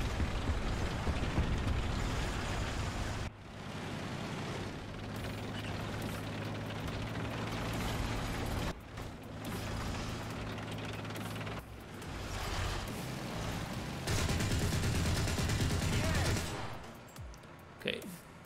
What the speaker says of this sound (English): AMX-30 is shooting it.